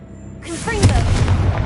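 A Confringo fire blast spell from a Harry Potter video game erupting into a booming explosion, a sudden whoosh followed by a loud rumbling burst that sustains to the end.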